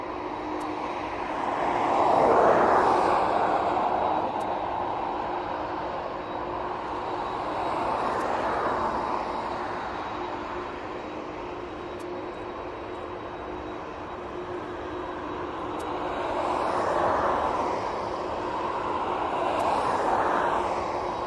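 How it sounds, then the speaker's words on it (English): Aircraft on approach to East Midlands Airport rumble from a distance in a broad, drawn-out roar that swells and fades in slow waves over a steady background hum. "Another aircraft actually on the approach"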